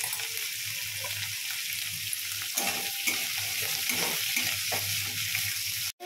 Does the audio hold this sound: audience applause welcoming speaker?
no